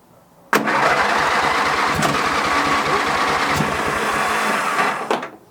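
Hayter H19/40 lawn mower engine with the choke on, starting suddenly and running loudly for about five seconds with a rough, uneven rattle and a few sharp knocks before dropping away.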